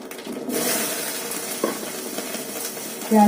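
Cumin seeds drop into hot oil in a home kitchen and sizzle in a steady, close, hissing crackle that holds through the whole moment, with a brief clink near the end and no talking.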